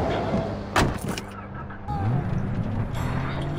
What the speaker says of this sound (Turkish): Çalışır mı bu araba?